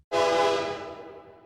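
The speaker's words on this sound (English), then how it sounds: "a loud train whistle screamed directly behind us" A loud train whistle blasts close by, a single sustained harmonic scream that starts abruptly and fades slightly over about a second and a half, with no other sound around it.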